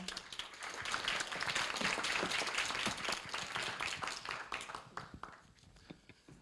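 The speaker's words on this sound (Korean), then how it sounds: "김승범 대표를 박수로 맞이해 주시기 바랍니다" Scattered applause from a university event audience greets a startup founder taking the stage, quiet and somewhat distant, swelling briefly and then thinning out into a few last claps.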